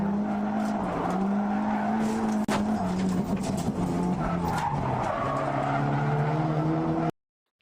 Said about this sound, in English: he actually uses the handbrake to drift into the first turn